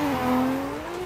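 Race car drifting on the Forest Park track in the Assetto Corsa video game, with tires squealing and the engine whining steadily through a brief, fairly loud slide.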